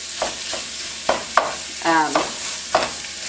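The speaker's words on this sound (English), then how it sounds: "all I'm going to do is add the sausage to the pan and cook it until it just loses its raw color" Pork sausage fries in a hot pan, a constant hiss broken by a few scattered spatula scrapes and clinks at close range, with one short rattling stroke in the middle.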